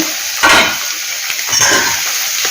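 A pan of drumstick and tomato curry with onions and curry leaves is stirred, a steady sizzle broken by a couple of brief scraping sweeps of the spoon, close and alone.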